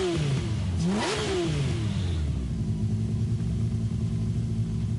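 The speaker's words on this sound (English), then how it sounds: "Listen to that engine, man." A sports car engine in the video game Gran Turismo 7 revs up in a sharp rising and falling sweep, then settles into a steady loud idle drone, game-like and close.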